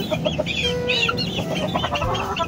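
A flock of 4-month-old chickens clucking continuously, several birds overlapping close by in a busy, steady chatter.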